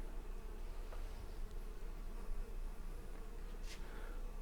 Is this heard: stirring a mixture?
no